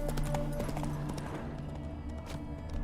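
Roach, Geralt's horse in the video game The Witcher 3, galloping with quick rhythmic hoofbeats close up, mixed with game music and a brief shouted voice.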